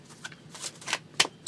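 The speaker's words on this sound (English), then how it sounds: "And why are you shuffling again?" Tarot cards are shuffled in quick, crisp riffling bursts, several short flutters close up over a quiet background.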